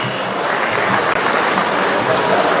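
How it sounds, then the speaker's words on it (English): Steady, dense applause from an auction audience at a political meet-and-greet, cheering the top bidders, loud and continuous throughout without pause. "A round of applause for the top bidders for tonight."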